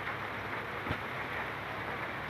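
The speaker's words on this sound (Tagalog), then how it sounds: "Umuulan dito" Rain falling steadily outdoors where pigeons are kept, a continuous soft hiss of drops with one brief low thump partway through, fairly quiet and without voices.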